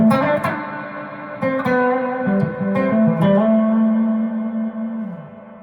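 An electric guitar played through a NUX Space Echo pedal with heavy reverb, a few plucked notes and slides that ring out in long, swimming washes and slowly decay, loud and alone.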